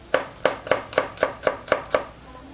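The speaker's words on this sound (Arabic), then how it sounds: "هلا انا هيدا الحص بدي افرمه ناعم" A knife finely mincing a large garlic clove on a board makes eight evenly spaced, crisp chops in quick succession, close and clear with no talking.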